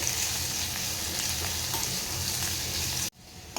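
Loud, constant sizzling of sliced onions frying in hot oil, close up, cutting off abruptly near the end.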